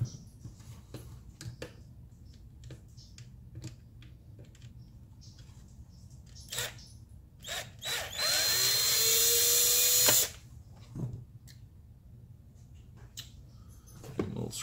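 Power screwdriver backing screws out of a board on a sim-racing wheel conversion kit, a loud two-second whirring burst among scattered clicks and handling taps in a quiet room.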